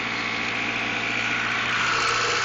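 A 1994 Honda Accord with new plugs and wires and an old air filter idles steadily and evenly, a close, constant engine hum with no revving and no voices.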